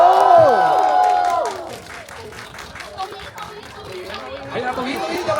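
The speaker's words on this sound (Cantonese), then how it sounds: "掌聲同埋歡呼聲去邀請佢哋入嚟" A cinema crowd claps and cheers to welcome a film director at a thank-you screening of the Hong Kong film Night King, with lively chatter and an amplified voice over the applause.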